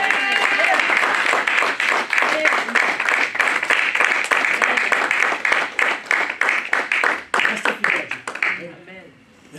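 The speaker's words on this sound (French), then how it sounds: "Est-ce que tu peux acclamer?" A church congregation cheers and applauds together, sustained dense clapping with shouts lasting several seconds before fading out near the end.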